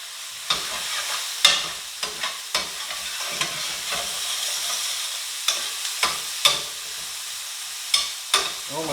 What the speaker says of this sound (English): Now we're going to throw the onions with it. I'm going to give it a stir.